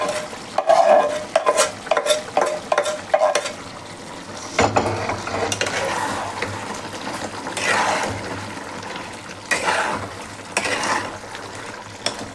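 Chicken do pyaza with fenugreek leaves is stirred in a pan, a rhythmic run of scraping, clattering strokes at first, then slower scraping over a continuous sizzle of oil, all close up.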